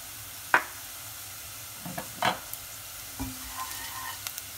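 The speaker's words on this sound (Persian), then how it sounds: "نعنا رو بهش اضافه میکنم تا یه تفت کوچیک بخوره" Fresh mint added to a pan and briefly sautéed while cooking a traditional Azerbaijani bread-and-yogurt dish: soft scattered stirring clicks and scrapes over a faint, steady sizzle, no talking.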